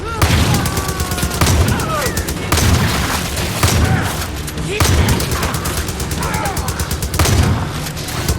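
Repeated bursts of gunfire and explosions in a zombie video game, loud and close, arriving in rhythmic waves about every second and a half with dense crackling between booms.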